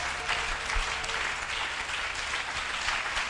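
A church congregation applauds steadily for Jesus, a dense wash of many hands clapping that holds at an even level throughout with no voices standing out.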